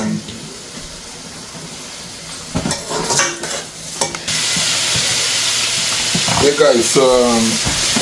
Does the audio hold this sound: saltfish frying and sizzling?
yes